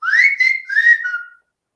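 A bright, clear whistled melody of a few sliding notes, close and solo, ending after about a second and a half into silence.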